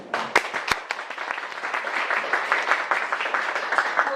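An audience gives a dense round of applause to welcome the first speaker at a talk on animal rights activism. The clapping is sustained and moderately loud, with a couple of sharp, close claps near the start.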